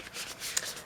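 Tarot cards being shuffled by hand, a close, soft papery riffling with a sharp snap near the middle of a brief burst.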